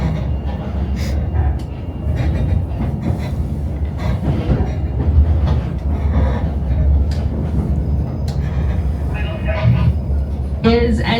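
Tourist train rolling on rails in Skagway, heard from inside a passenger car: a continuous low rumble and rattle with clicks and brief squeals, loud and steady throughout.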